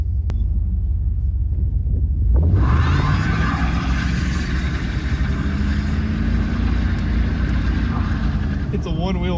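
A 1979 Camaro barn find doing a burnout with one rear tire spinning: a deep engine rumble swells into a sustained revving roar with a hissing tire-spin wash, while a person speaks over it.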